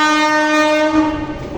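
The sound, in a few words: train passing with horn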